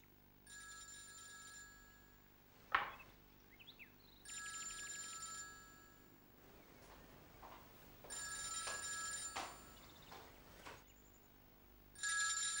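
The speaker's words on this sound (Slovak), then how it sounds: "Od samého rána mu vyzváňa mobil." A mobile phone rings in short bursts of electronic tone, stopping and starting several times across the stretch, fairly quiet and heard alone with a brief knock and some rustling between rings.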